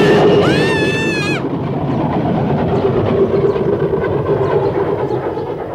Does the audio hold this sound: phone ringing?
no